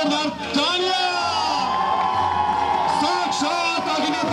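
A wedding crowd at a jaimal ceremony cheers and whoops with some applause, a loud, lively mass of voices continuing throughout.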